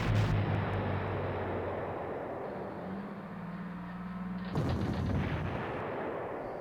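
Artillery fire in the Panzer Corps strategy game, a dense continuous rumble of booming shots that stays loud throughout, with a sharper burst of blasts near the end and no talking.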